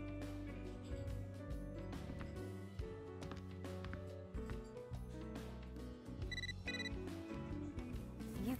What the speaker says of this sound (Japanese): 時折携帯電話に着信があるぞ。